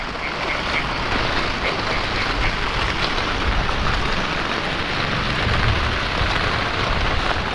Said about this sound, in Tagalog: ulan to guys, tubig ulan.